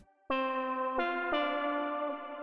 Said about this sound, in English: it just sounds like a square wave